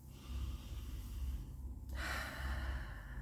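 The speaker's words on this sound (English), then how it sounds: "I like to take a few deep breaths." Slow deep breaths are drawn in and let out during a relaxing eye exercise, a soft airy inhale followed by a brighter, longer exhale, close and quiet with no talking.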